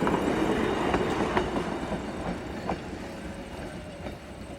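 Railcar RM50 runs past on the Plains Railway at Tynwald with a broad rumbling roar and a rhythmic clickety-clack of wheels over rail joints, loud at first and slowly easing away, with no talk.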